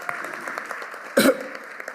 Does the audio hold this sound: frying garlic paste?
no